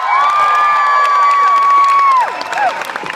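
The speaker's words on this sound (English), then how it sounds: "Please give a huge round of applause to the second band you saw tonight" A concert crowd at a show in San Diego cheers and claps for an opening band, with a long high whoop riding over the applause before it drops off.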